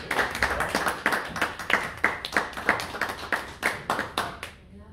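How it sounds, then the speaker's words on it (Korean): Audience at a lecture event in New York clapping to welcome a speaker, a steady burst of close, dense hand claps with a rhythmic pulse that fades out at the end. "박수 부탁드립니다."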